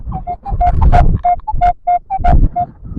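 A metal detector sweeping a ploughed field gives a surface signal: a string of short, loud, pulsing beeps at one pitch, mixed with rough wind buffeting and low thumps close to the microphone.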